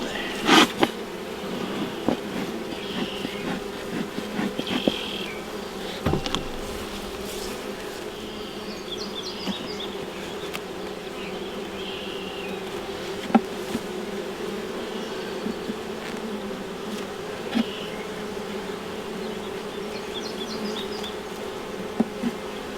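Honeybees buzz around an open hive during beekeeping work, a dense, continuous humming swarm close by, with occasional louder passes and light handling knocks.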